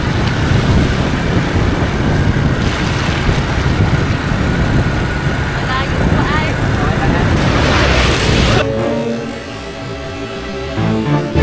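A motorcycle ridden along the road in Misamis Occidental, with loud engine drone and heavy wind rush throughout, then dropping to a quieter idle near the end; voices are faintly present.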